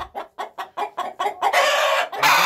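Several short rhythmic clucks from a hen lit up by a phone light, quickening into loud, drawn-out raspy squawks near the end, close by with no talking.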